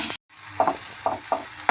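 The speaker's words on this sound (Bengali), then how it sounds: "এবার ভালো করে আমি এটা কষিয়ে নেব।" Tomato and spices being sautéed in a pan for a Bengali afternoon snack, giving a steady close sizzle broken by several distinct scraping stirs of a spoon, with no talking.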